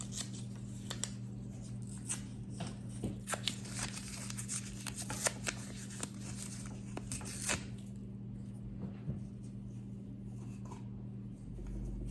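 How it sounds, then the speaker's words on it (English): Quiet, repeated tearing and crinkling of scrap paper for seed paper, a series of short rips close by over a low steady hum, thinning out toward the end. "I love ripping the paper up."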